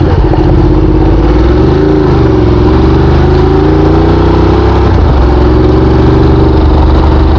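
Ducati Multistrada motorcycle riding along a small dirt track, its engine droning loud and close throughout, pitch rising and dipping slightly with the throttle, no talk.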